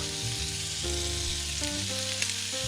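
Prawns sizzle and crackle in a hot pan during a sweet chilli stir fry, a steady close frying hiss with faint scraping of stirring and no talking.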